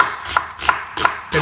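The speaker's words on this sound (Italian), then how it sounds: "inizia a tagliare le cipolle" Four crisp knife chops through onions on a cutting board, evenly spaced and close, each a sharp thud with a short crunch.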